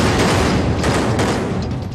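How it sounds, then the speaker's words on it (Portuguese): Rapid consecutive gunshots ring out inside a restaurant, a loud, dense burst of overlapping reports that keeps going with no voices. "ouvimos tiros consecutivos no restaurante"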